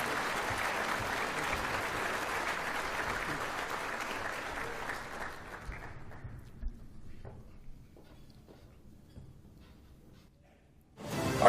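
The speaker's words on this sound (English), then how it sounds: "let's have a round of applause for Chesterfield County Fire and EMS peer support team." An audience at an EMS awards ceremony gives a round of applause, steady clapping that fades out over several seconds, leaving a quiet room with a few scattered sounds.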